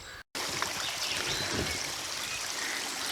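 A small stream trickles and babbles outdoors, a steady, close wash of running water throughout, with one brief dropout near the start.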